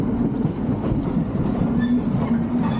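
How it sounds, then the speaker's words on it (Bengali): A train pulling out of Howrah station, heard from on board as a steady loud rumble of wheels and carriages with rhythmic clickety-clack of the rails and a faint metallic tone. "ট্রেন এখন পুরোপুরি ছেড়ে দিয়েছে হাওড়া স্টেশন"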